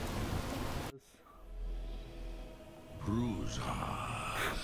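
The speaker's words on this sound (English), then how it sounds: "Stupid rain." Steady rain with a low thunder rumble in the video game Skyrim, a dense hiss that cuts out for a moment and returns, with a voice speaking briefly over it.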